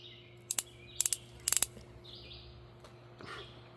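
Hammer of an Uberti El Patron .357 Magnum single-action revolver being cocked, three groups of sharp metallic ratcheting clicks close by in a quiet room, with faint birdsong in the background.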